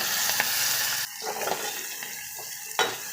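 Onions hit hot oil in a pan already holding green chillies and curry leaves, giving a close, sizzling fry with a few stirring scrapes and soft clinks of a utensil against the pan.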